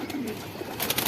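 A pigeon coos softly nearby, a brief low throaty call, with a faint rustle of movement at the end.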